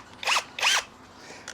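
A cheap Chinese Xiangjia cordless drill whirs in two short, close bursts with a brief pause between them, followed by a faint blip of the trigger.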